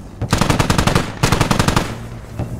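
Automatic gunfire in the game Squad comes in two loud, close bursts of rapid shots, with a short pause between them and a lone shot near the end.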